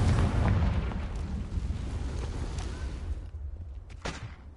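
A Confringo blasting spell detonates in Hogwarts Legacy, a loud, full-bodied explosion with rumbling low end that slowly decays into debris noise, followed by a couple of faint sharp pops near the end.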